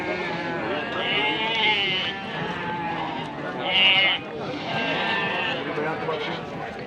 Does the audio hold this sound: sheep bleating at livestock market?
yes